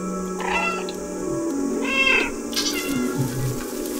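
Cat in the video game Stray meowing, a few clear close meows in quick succession, loud over a steady game music bed.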